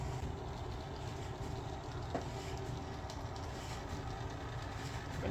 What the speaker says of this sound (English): I'm gonna send this train down the line.